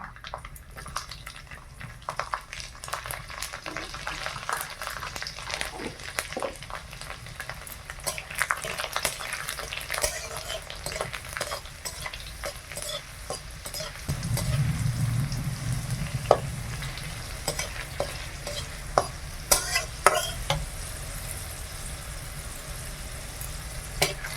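Nigella seeds, four dried chillies and whole garlic cloves fry in hot oil in a kadai, a steady broadband sizzle with faint spatters that swells fuller and louder partway through.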